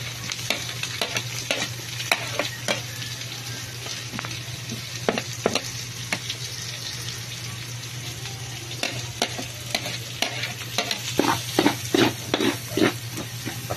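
Garlic and onion frying in rendered pork fat for pork intestine adobo, a continuous sizzling crackle with repeated scraping stir strokes, louder toward the end.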